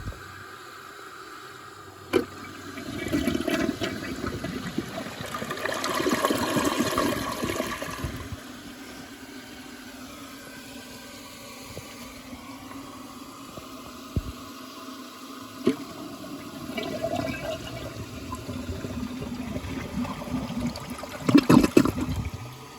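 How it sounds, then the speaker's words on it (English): A Kohler Wellworth toilet with the Ingenium flushing system, a low-flow model holding about 6 liters in the tank, flushes with a rushing swirl of water that swells and fades, followed by the tank refilling with a steady trickle. "might as well give this thing a flush"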